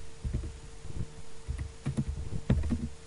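Soft, close keyboard clicks while a message is typed on a computer keyboard during a Python programming lesson, coming in uneven clusters with short pauses. Nobody speaks over the typing.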